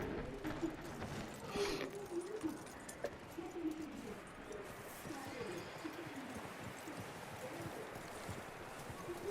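Horse hooves clip-clop at a slow walk in the Red Dead Redemption 2 video game, soft and steady beneath chirping birds and cooing doves in an outdoor countryside scene, with a voice speaking briefly.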